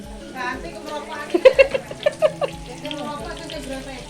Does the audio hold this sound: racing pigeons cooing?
no